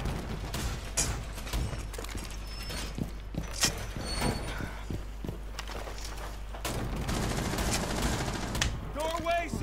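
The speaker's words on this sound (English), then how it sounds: "Some gunfire going off." Bursts of rapid gunfire crackle through a busy Rainbow Six Siege soundscape, with sharp repeated shots scattered across the clip over a steady low rumble.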